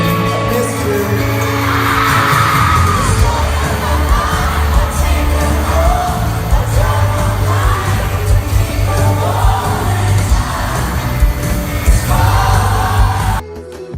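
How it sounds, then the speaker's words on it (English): At an arena concert, a large crowd of fans screams and shrieks loudly and continuously, with shouts and whoops rising in waves before the sound cuts off abruptly at the end. "fans were sent into meltdown with screams filling up the arena"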